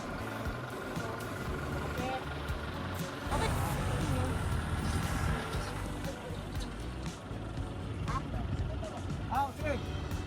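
Tractor engine towing a stuck vehicle along the Botolan trail to Mt. Pinatubo, a low steady motor rumble running the whole time beneath people talking and shouting nearby.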